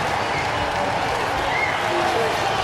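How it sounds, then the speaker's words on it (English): Stadium crowd noise in an FC football video game, a steady dense roar of booing mixed with clapping filling the whole stretch at full volume. "I'm hearing boos. I'm hearing claps."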